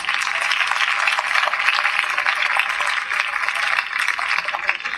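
An audience claps at a school NJROTC evening parade, a dense, sustained wash of applause that holds steady for several seconds, with some voices mixed in.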